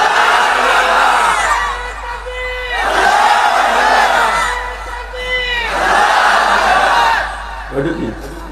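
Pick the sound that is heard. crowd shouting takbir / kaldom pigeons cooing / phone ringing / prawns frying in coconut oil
crowd shouting takbir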